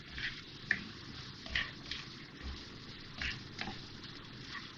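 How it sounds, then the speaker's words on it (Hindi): Onions frying with whole garam masala in a pan for a leftover-curry beef biryani make a low, crackling sizzle, with several sharper pops and stirring scrapes spaced through it, close and moderately quiet, with no voice. "और बाकी प्याज में ये साबुत गरम मसाला डाल रही हूँ मैं"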